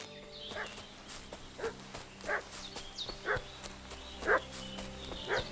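A dog in the video game Kingdom Come Deliverance 2 barks about six times at spaced, fairly regular intervals, moderately distant over a low ambient background, with no talking.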